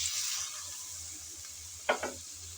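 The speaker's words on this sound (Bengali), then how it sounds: "এখন দিয়ে দেব পরিমাণ মতো পানি।" Spiced raw mango fries quietly in a pan as water is added, giving a soft, steady sizzling hiss with a couple of brief scraping stirs near the end.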